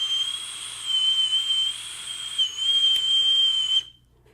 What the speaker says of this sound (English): Why does it whistle like that?